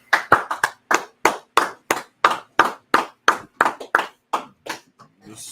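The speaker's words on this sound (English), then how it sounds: "Let's go ahead and clap it up." Sharp, close hand claps from one person, about fifteen in a steady rhythm of roughly three per second, loud and alone before a final softer clap.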